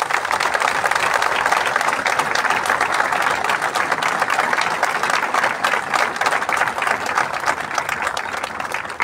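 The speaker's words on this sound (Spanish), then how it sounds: "Un fuerte aplauso para todos ellos y para todos ustedes." Sustained audience applause at an outdoor ceremony marking the 136th anniversary of the city of Río Primero, with dense, steady clapping from a large crowd continuing at full strength throughout.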